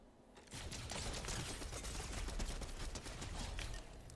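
Blaster-style gunfire aimed at stormtroopers in a Star Wars video game, a rapid, continuous volley of sharp shots lasting several seconds, fairly loud and close, with no voices.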